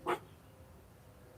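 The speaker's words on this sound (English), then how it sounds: "Who are you barking at?" A single short dog bark, fairly near, followed by quiet room noise.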